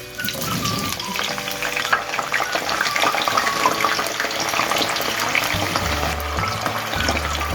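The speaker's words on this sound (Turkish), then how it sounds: "Biz ilk etapta patateslerimizi yağda kızartacağız." Steady loud sizzling and crackling of potatoes frying in hot oil for Izmir köfte, continuous throughout with a low thumping near the end.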